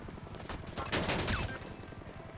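A rapid volley of gunshots fired across a street at a rooftop during a live game session, heard as a dense burst of sharp cracks at moderate distance with a faint voice underneath.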